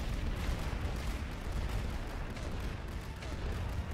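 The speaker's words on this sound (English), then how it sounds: "we're going to need a barrage here" A continuous rumbling artillery barrage in The Great War: Western Front, a dense wash of distant booms and gunfire that blends into a steady roar with no clear gaps.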